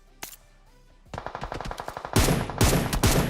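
M4 rifle gunfire in PUBG Mobile: after a lone shot comes a rapid automatic burst, followed by louder, closer sustained fire at the end.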